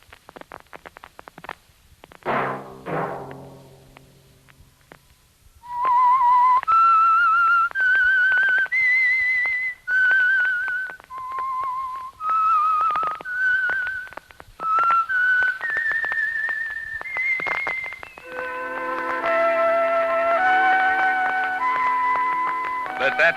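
Someone whistles a slow, eerie melody alone, clear and close, after a brief low musical sting, ending over soft orchestral backing, as the theme of the radio mystery drama The Whistler.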